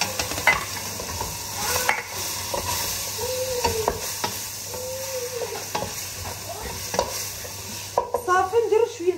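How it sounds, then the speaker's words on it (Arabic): Meat being stirred in a cooking pot, a steady sizzling fry with repeated scraping strokes of the spoon and a busier clatter of stirring near the end; no talking. "نحرك هذاك اللحم"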